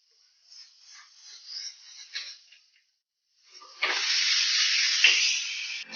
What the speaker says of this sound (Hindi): प्रेशर कुकर को चलते हुए अब हम फ्लेम को ऑफ कर देंगे और स्टीम को रिमूव होने देते हैं।